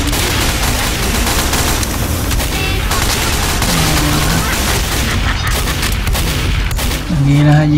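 Gunfire from Team Fortress 2 on the Highpass map, dense continuous shots and booms layered over game music, loud and busy throughout.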